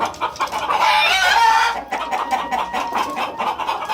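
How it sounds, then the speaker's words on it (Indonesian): Elba hens and Elba-KUB crossbred chickens cluck together in a shared coop, a busy, continuous chorus of overlapping calls close by, loudest at the start and then settling into steady, slightly softer clucking. "yang ayam Elba dan ayam silang dari Elba KUB ini saya satukan jadi satu kandang"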